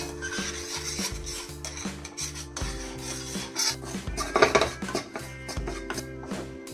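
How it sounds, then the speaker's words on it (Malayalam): A utensil scrapes and rubs around a metal pan of besan flour mixture over a gas flame, giving a steady rasping stir with scattered clinks. No one speaks. "ജസ്റ്റ് ഒന്ന് ഞാൻ ഇളക്കി കൊടുത്തിട്ടുണ്ട്."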